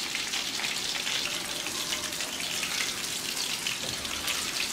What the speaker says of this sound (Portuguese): E deixa ele fritando aqui tranquilamente.